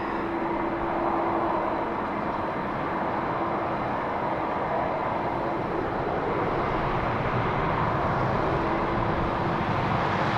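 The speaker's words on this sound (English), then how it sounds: "So we switch to our Ryanair coming in from Gatwick." A Ryanair airliner arriving from Gatwick lands at Dublin Airport, its engines producing a steady, broad roar that holds evenly throughout with a faint tonal hum layered underneath.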